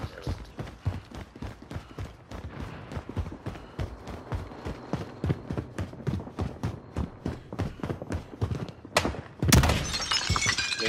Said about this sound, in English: I think somebody just broke glass.